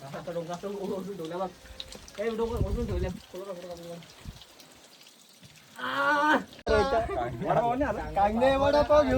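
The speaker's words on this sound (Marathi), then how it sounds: "पाऊस चालू एकदम जोरात पाऊस" Heavy rain pours during a trek at Bhaskargad fort, a steady wet hiss running beneath excited voices talking close by.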